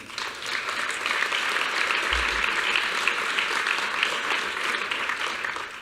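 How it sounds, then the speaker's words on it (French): An audience claps steadily for performers at an art prize ceremony, a dense, continuous wash of applause lasting throughout without voices. "Je crois qu'on peut aussi, eux, les applaudir."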